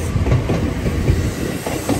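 A short Seibu commuter train rolling into a Japanese station, with a steady low rumble of wheels and faint rhythmic clatter over the rails, close and continuous with no voices.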